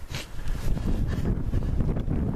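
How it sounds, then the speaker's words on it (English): Wind gusts across an outdoor golf course, a steady rough rumble of buffeting against the microphone with shifting surges, loud and continuous throughout. "And the wind really is gusting here."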